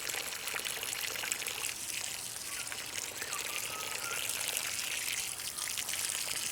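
Water pours steadily onto the soil around a newly planted macadamia tree in a continuous splashing stream, close and fairly loud, with no talking.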